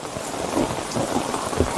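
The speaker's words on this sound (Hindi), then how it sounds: "बारिश होने लगी हुई।" Steady, heavy rain pours down with a dense hiss, and low thunder rumbles beneath it; the sound is loud and close, with no voices.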